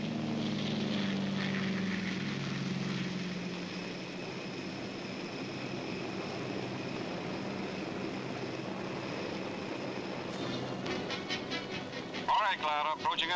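Propeller aircraft towing CG-4A gliders at night in a WWII setting, a steady droning engine roar that is loudest at first, then eases to a sustained hum with a brief clatter near the end.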